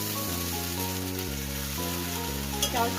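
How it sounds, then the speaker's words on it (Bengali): Chow chow noodles being stir-fried with turmeric, salt and spices in a hot pan, giving a loud continuous close-up sizzle and frying hiss with stirring scrapes, under a steady background hum. "দিয়ে ভালো করে এটাকে নেড়ে চেড়ে দিব, যাতে চাউ চাউর গায়ে সম্পূর্ণভাবে সব কিছু মিক্স হয়ে যায়"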